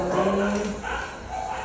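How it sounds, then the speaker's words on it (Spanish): Dogs up for adoption in a room at a Petco store bark and yip, short close barks mixed with a whimpering tone over a busy indoor background, with a voice talking underneath. "Son los perros que están en adopción."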